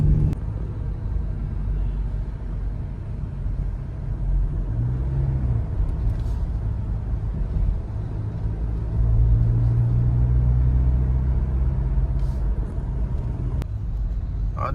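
A smoky city bus engine in Chandigarh traffic gives off a continuous low rumble with a steady drone. Faint passing vehicle noise sits around it, and the engine swells a little louder partway through.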